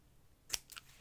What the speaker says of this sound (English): now I'm going to cut it out